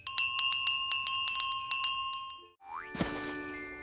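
Bright bell chimes ring out in a quick, repeated run for about two seconds, then a short rising boing and a sparkling shimmer close the clip; no talking.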